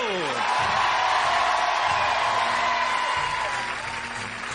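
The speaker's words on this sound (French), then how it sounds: "Applaudissons Fauve Auto" Studio audience on a French comedy variety show applauding in a steady, dense burst of clapping with a few whoops, fading slightly toward the end.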